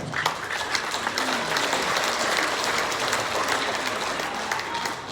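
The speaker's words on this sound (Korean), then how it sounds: "여러분들이 왜 박수 치시는지 알겠습니다" A crowd applauds at a conservative political gathering (Korea-US conservative alliance event), a steady, fairly dense clapping that holds evenly at a moderate distance for the full stretch.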